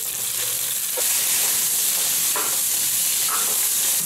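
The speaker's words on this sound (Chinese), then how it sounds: "把排骨炒干炒香，炒至等皮微黄即可" Pork ribs stir-fried in a hot wok give a loud, continuous hissing sizzle that swells after the first second, broken by occasional scrapes of the spatula.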